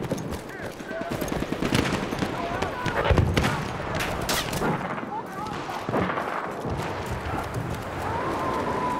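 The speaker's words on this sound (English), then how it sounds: "Machine gun! Hostile!" Machine gun fire rattles in rapid bursts during a Battlefield 1 match on the River Somme map, mixed with explosions and other battle noise while voices speak over it.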